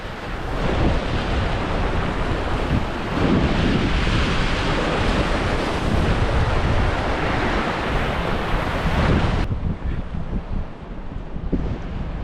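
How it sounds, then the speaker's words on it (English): Strong wind of more than 10 miles an hour buffets a fishing pier, a loud continuous roaring rumble with gusty surges and surf-like wash over the microphone, and no talking. "I think it's still blowing more than 10 miles an hour."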